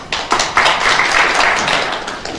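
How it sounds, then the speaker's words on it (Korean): Applause from an audience at a Finland smart-convergence industry seminar, a dense steady wash of many hands clapping close by for the whole stretch, with no voices over it. "박수로 맞이해주시기 바랍니다."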